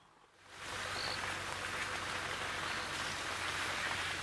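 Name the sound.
rain falling at a game reserve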